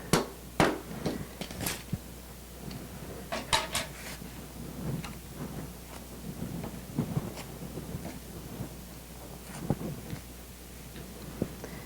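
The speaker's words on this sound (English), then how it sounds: "we just need to pop it out of the hoop. Peel off all the tape." Tape is peeled from a machine-embroidered in-the-hoop zippered bag and the fabric is popped out of the hoop, giving close scattered clicks, knocks and rustling handling noises with no talk.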